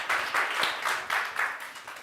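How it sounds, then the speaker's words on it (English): Audience applause follows a presentation at a sustainability forum, a steady wash of many clapping hands with slight swells, close and fairly loud, with no talk over it. "So a round of applause for Auster."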